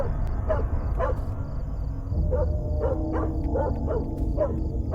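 Dog barking in a horror video game, a few short yips and barks repeating at intervals over a steady low ambient drone.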